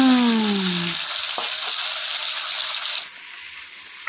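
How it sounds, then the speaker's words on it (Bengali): Katla fish, rubbed with salt and turmeric, hits hot oil in a wok, starting a loud, steady sizzle that carries on without voices, easing somewhat near the end. "এই যে এবার কড়াইতে দিয়ে দিলাম মাছ"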